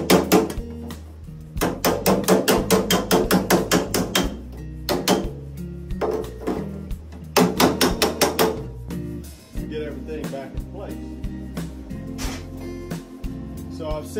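A hammer strikes the steel of a wood cookstove against a steel bucking bar, bursts of rapid sharp metallic blows separated by pauses, close and loud, with someone talking briefly between.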